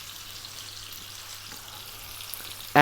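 Cod fillets frying in olive oil over medium heat give off a soft, steady sizzle and hiss, with a low hum beneath it and a sharp, louder clatter at the very end.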